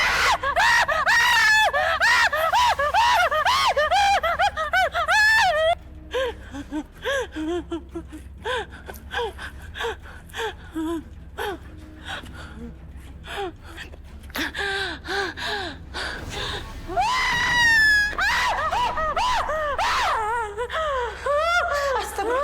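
A girl screams in a dramatic Indonesian television scene, loud piercing cries and gasping wails that come and go over about twenty seconds, with brief pauses between outbursts.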